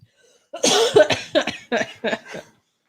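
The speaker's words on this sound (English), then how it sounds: "You're making me cough." A person coughs in a close, loud burst of five or six harsh coughs in quick succession, tapering off toward the end.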